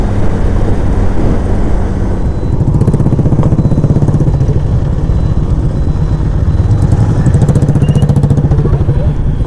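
A motorcycle cruising along National Highway 12 toward Raiganj, its engine a loud, unbroken drone with wind rush, running steadily throughout.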